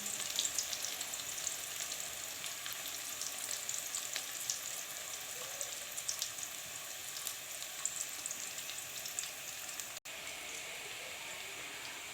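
Browned onions frying steadily in a pan for a chicken and turnip curry, a continuous close sizzle with fine crackle and no voices, broken by one brief dropout near the end.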